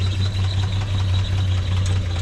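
A vintage 1946 Chevy truck engine idles smoothly and steadily with a low, even hum and a constant rumble, close to the mic with no talking.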